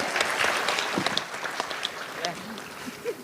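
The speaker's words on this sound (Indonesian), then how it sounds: "Tepuk tangan dulu" A conference audience claps in a brief, dense round of applause, with a voice speaking over the clapping.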